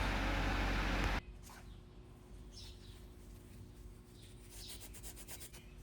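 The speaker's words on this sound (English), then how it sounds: "we're gonna clean this up with some green emery cloth" A loud, dense rasp of green emery cloth rubbing a metal part of a Snap-on IM150B impact gun for about a second, then it stops, leaving a quieter background with faint chirps and light scraping.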